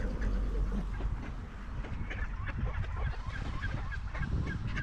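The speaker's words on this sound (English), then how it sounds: "You can see a lot of ducks here. They're eating here." Ducks gather and feed at the ocean side in Toronto, giving scattered quacks and honks over a steady wash of outdoor noise and low rumble, fairly faint and continuous.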